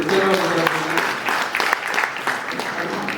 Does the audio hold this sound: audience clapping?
yes